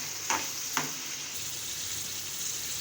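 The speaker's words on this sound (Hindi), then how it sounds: "टोमेटो पेस्ट डालने के बाद बस हमने इसको इतना भूनना है कि ऑयल सेपरेट हो जाए" Tomato paste fries in oil in a pan for aloo palak, a steady close sizzle running throughout, broken by two brief scraping stir strokes early on.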